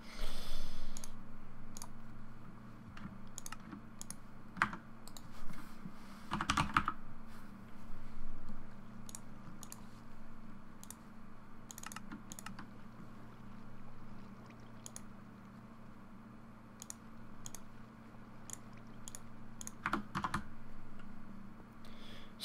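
Computer keyboard typing during a Minecraft-style modded crafting game session, scattered clicks and short bursts of keystrokes over a steady low background hum, close and moderately loud, with no talking.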